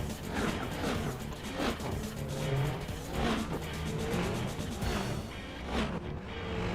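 Race cars in Gran Turismo 4, including a Toyota Supra, roar along with dense, continuous engine noise, rising and falling revs and occasional passing surges, loud and unbroken throughout.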